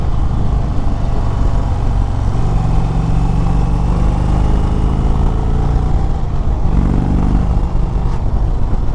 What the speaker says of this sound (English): That Thunderstroke engine has always sounded so good, both the 111 and the 116.